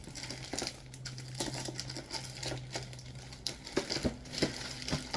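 Packing paper crinkles and rustles as CGC-graded Bronze Age Marvel comics are unboxed, with irregular close crackles and crumples over a quiet background.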